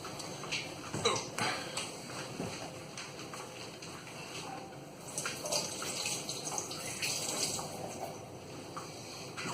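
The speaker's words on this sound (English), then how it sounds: "I'll just go wash my hands 1 second." Tap water runs as hands are washed after handling salted fish for curing, a steady low hiss with intermittent splashes and clatters, fairly quiet throughout.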